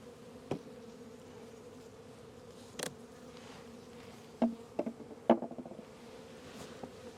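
Honey bees hum softly in a small hive colony of about four frames, a steady low buzz with a few brief clicks and knocks from the open hive.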